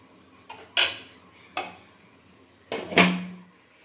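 A metal lid is set over a pot of cooked jeera rice, giving a few sharp clinks and clatters: two quick knocks, a lighter tap, then a louder ringing clank near the end, close by with no talking.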